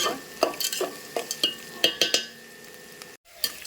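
Onions, green chilies and peanuts fry in a pan while a utensil stirs them, giving a steady sizzle broken by repeated scraping clinks and taps at close range.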